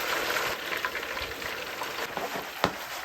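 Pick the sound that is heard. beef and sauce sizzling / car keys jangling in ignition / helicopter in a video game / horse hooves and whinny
beef and sauce sizzling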